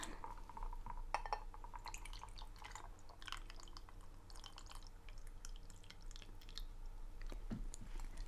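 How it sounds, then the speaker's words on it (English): Hot water is poured into a tea cup in a cozy tea-shop setting, giving a soft, close, continuous trickle with faint liquid drips and light clinks, no talking over it. "Pour some hot water."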